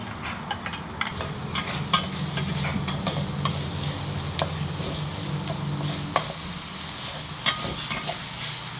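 Ginger and garlic frying and being stirred in a pan, a steady close sizzle with scattered light clicks and scrapes of the utensil throughout.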